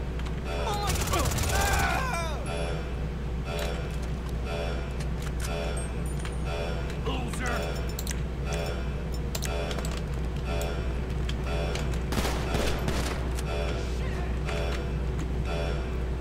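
Rapid video game gunfire from a mercenary shooter, a dense burst of shots up front followed by scattered, lighter pops and clicks over a steady background, with talk running alongside.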